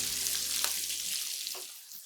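Shredded onions fry in a pan with toasted spices for a curry base, giving a steady, moderately quiet hiss and crackle with a couple of soft clicks as the sizzle tapers off near the end.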